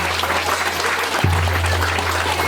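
An audience claps at a trail inauguration ceremony in Kathekhola rural municipality, Baglung, Nepal, a dense, even round of applause that continues steadily under a low hum.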